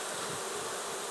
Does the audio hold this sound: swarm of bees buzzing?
yes